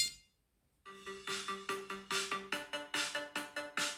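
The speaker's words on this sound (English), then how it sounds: "double press the button on your tag to make your phone ring" A Samsung Galaxy phone rings after a double press on a Galaxy SmartTag button, playing a loud, close ringtone of repeated bright melodic pulses in steady rhythm after a brief silence.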